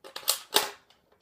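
A Nerf blaster fires two quick, sharp pops in close succession, close and fairly loud, followed by faint clicks with no talking.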